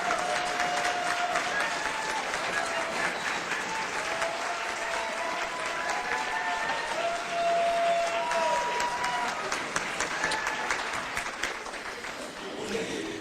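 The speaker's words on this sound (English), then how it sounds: "Would y'all give Mary Clark a great big round of applause?" A crowd at a union annual meeting applauds Mary Clark at length, a loud, continuous roar of clapping with faint cheering voices threaded through it before it tapers off.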